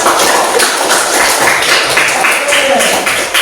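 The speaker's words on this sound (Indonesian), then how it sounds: "Mari kita semua sama-sama memberikan tepuk tangan untuk pribadi kita" A class of students clapping their hands together in a loud, fast, continuous patter of many overlapping claps, close by and filling the whole stretch.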